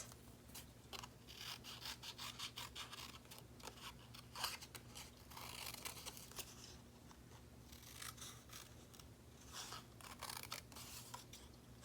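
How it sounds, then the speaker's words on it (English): Tiny scissors snip repeatedly through paper in a journal, quick crisp cuts in irregular bursts over a steady low hum. "what I'm gonna do is cut them out, but I'm gonna use my tiny little scissors"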